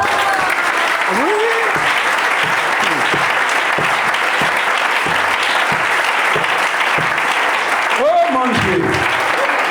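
Church assembly applauding to acclaim Jesus: loud, sustained clapping from a large congregation fills the whole stretch, with excited voices and a speaker calling out over it.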